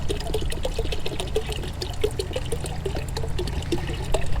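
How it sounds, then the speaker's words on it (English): Pond water is poured into a container holding gar fish, a steady, splashing trickle of liquid running continuously close by, with no talking. "So we're gonna dump some water in here, get them acclimated to the pond water"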